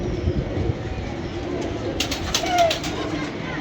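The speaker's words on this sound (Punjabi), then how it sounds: "ਇਹ ਵੇਖੋ ਜ਼ਰਾ, ਇਹ ਵੇਖੋ ਕਬੂਤਰ ਕਿਵੇਂ ਛਲਾਂਗਾ ਮਾਰਦੇ ਆ ਜੀ" Pigeons in a coop give a brief soft coo amid steady background noise, with a short burst of fluttering or flapping near the middle, fairly faint.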